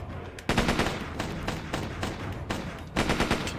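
Rapid automatic gunfire from a weapon in the video game Dex, loud and close, rattling in dense bursts with a short pause near the start and another surge toward the end.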